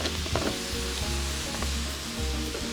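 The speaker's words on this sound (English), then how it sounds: "I'm gonna add in my pak choi, my price choi." Pak choi hitting a hot pan with onion, garlic and ginger, a loud, close, crackling sizzle that holds steady throughout with a few stirring knocks and no talk.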